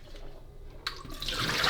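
Water sloshes and swirls inside the removable water tank of a De'Longhi Dedica espresso machine during descaling, starting quietly and swelling into a bright, steady splashing rinse by the end.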